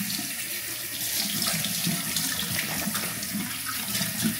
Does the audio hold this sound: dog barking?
no